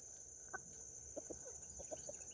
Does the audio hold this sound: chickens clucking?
yes